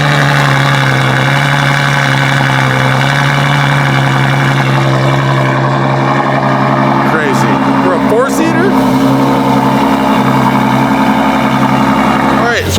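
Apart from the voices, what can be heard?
V12 car engine idling while warming up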